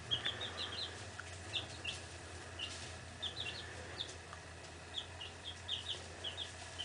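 Young chickens in a coop built in a basement give repeated short high clucks and peeps, scattered in small bursts over a quiet low hum, fairly faint and close.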